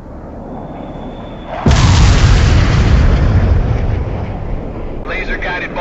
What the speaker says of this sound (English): Laser-guided bomb strike completed.